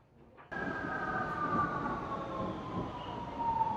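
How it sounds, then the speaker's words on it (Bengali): A Vienna metro train arrives at the platform, starting abruptly as a loud, steady rumble with a drawn-out, slowly falling brake squeal sustained throughout. No one speaks. "তো আমি অপেক্ষা করছি এই জায়গাটাতে ট্রেন আসার জন্য, এবং ট্রেন চলে আসছে দেখতে পাচ্ছেন।"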